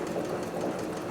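Leather sewing machine stitching through four layers of chrome-tan upholstery leather, a steady quiet mechanical whir with rapid regular needle ticking, heard alone.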